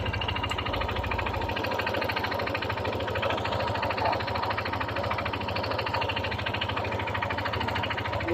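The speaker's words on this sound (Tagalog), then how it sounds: "Ito po ang tunog ng kanyang makina" A Yamaha NMAX 155 scooter engine runs steadily with a fast, even mechanical buzz and rhythmic ticking, close and continuous without talk.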